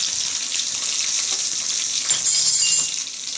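Steady sizzling of spices and dried red chillies tempering in hot oil for chow chow kuzhambu, a bright crackling hiss that continues throughout, with a few faint clinks partway through.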